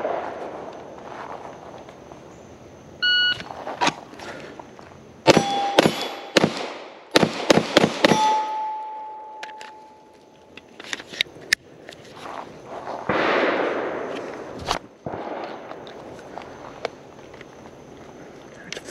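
Gunshots crack during a timed pistol shooting drill, the Alex Challenge. Loud, sharp reports come in quick clusters of several shots, separated by short pauses, with quieter shuffling and handling sounds between strings.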